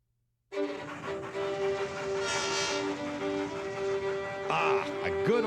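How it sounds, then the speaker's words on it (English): A steam locomotive hauls a freight train, rumbling loud and close with a sustained whistle blast, then a rising, bending whistle call near the end, with no talking. "a good old steam locomotive hauling a freight train"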